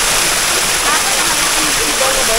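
Loud, steady roar of a waterfall at Durano Eco Farm in Carmen, Cebu, Philippines, crashing close by, a dense continuous rush of water filling the whole moment.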